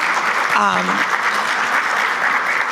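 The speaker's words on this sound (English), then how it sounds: "Applaud." Audience applause at a workforce summit's final plenary panel session, a dense, steady wash of clapping throughout, with a brief voice speaking over it near the start.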